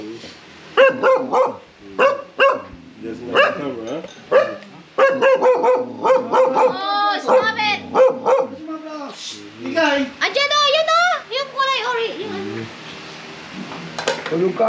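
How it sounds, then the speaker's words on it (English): A pet dog barks and yips in a home in Iba, Zambales, Philippines, mixed in among constant close conversation and the clatter of dishes and cutlery. "it's my doggy"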